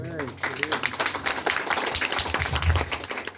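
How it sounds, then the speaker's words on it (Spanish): A church audience claps during a sermon on spiritual strengthening, moderately loud and uneven, mixed with voices and murmuring throughout. "Demos un fuerte aplauso."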